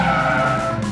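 A drifting car's tires squeal loudly in one steady, sustained note that holds unbroken for the whole moment, close and dominant.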